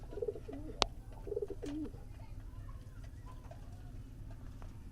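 Soft, low coos from Giribaz pigeons repeat a couple of times at close range, with a sharp click between them, then quiet background hum.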